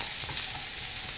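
Sweet potatoes fry in hot oil over medium heat, giving a steady, dense, close sizzle with no pauses.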